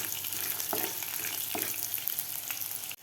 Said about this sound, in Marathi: आता शेंगदाणे सुद्धा आपल्याला व्यवस्थित तेलामध्ये थोडेसे फ्राय करून घ्यायचे आहेत